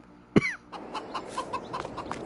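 Chickens in the farming video game Farming Simulator 22: a loud squawking call opens, followed by a run of soft, rhythmic clucks close by, with no talk.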